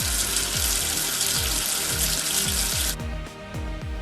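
Water sprays steadily to rinse soap off a number in a children's preschool counting game, a bright continuous gush under repeated soft low thumps of game music, cutting off abruptly near the end.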